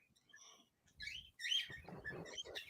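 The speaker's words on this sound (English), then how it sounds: "We could hear the birds." Birds chirp outdoors in a mix of short high tweets and trills, faint and somewhat distant at first, then busier and denser, with low background murmur underneath and no clear speech.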